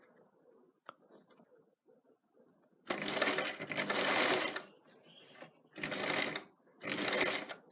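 A sewing machine runs reverse stitches on bag handle fabric in three loud close bursts, stopping briefly between them, after a stretch of quiet handling noises.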